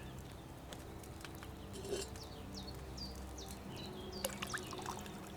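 Water pours into a cauldron in Kingdom Come: Deliverance II, a faint steady trickling stream with birds chirping softly in the background and a couple of light knocks.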